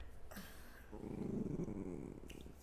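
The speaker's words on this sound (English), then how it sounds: "I just moved my dog and she growled at me" A pet dog gives a low, rumbling growl at close range, one sustained snarl lasting a couple of seconds in a quiet room.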